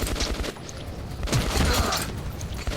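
Dense bursts of gunfire in the video game Metro 2033 Redux, loud and continuous, with sharp volleys over a noisy, broadband battle backdrop.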